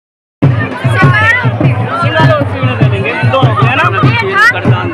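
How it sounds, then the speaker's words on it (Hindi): Dense crowd babble at a busy Indian fair, a steady close hubbub of many overlapping voices with louder nearby talkers. "बहुत ज्यादा भीड़ है इधर"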